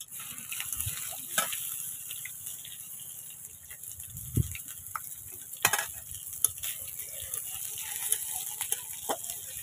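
Steady sizzling of spices frying in a pan, with occasional stirring clinks and scrapes close by, no talking.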